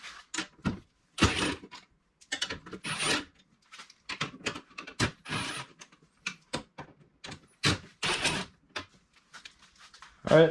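Ratchet and 12mm socket loosening the four bolts holding a seat in a Yamaha YXZ 1000R side-by-side, a series of scraping clicks and rasping bursts in uneven spurts with short pauses between, close and fairly loud.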